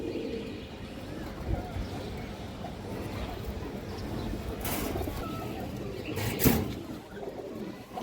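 Pigeons coo softly close by in a loft, low rounded calls under someone speaking, with a couple of brief wing flutters and scuffs.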